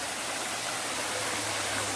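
A waterfall pours over a cave at Wat Tham Khao Wong in Ban Rai, Uthai Thani, swollen after heavy overnight rain, making a steady, even rushing roar with no voices.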